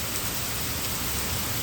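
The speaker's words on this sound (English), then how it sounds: "for these lovely showers of rain" Rain showers fall steadily in a hot place, a dense continuous hiss of drops with no gaps and no voices, fairly loud and even throughout.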